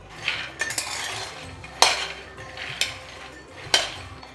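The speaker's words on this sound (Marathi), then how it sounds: "त्यामुळे गॅस एकदम कमी करूयात आणि शेंगदाणे असे मंद आचेवर भाजून घेऊ." Peanuts stirred while roasting in a pan on a low gas flame: sharp metallic clinks of the utensil against the pan, arriving in irregular strokes with soft rattling between, close and fairly quiet.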